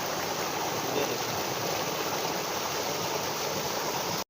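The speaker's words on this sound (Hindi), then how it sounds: "ये ऊपर से ये पानी आ रहा है और नीचे आके ये गिर रहा है।" Water pours down from above into a small waterfall in a village near Abbottabad, Pakistan, a steady loud rushing wash that runs unbroken and cuts off abruptly at the end.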